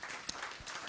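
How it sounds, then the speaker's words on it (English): Audience applause at an orientation event, a brief, steady patter of clapping heard at moderate level with no voices over it. "Can we all clap for these wonderful guys?"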